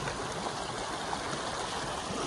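Steady rush of a flowing stream, water babbling continuously at an even level with no breaks or voices.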